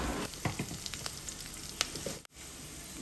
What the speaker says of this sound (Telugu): కొద్దిగా పోపు వేగిన తర్వాత కొద్దిగా ఇంగువను కూడా వేసుకుని పోపు వేసుకుంటే